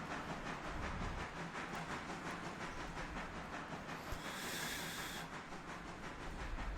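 A logging train in the video game Railroader gives off a steady, faint steam hiss with a soft rhythmic rail clatter underneath, and a brighter burst of hissing partway through.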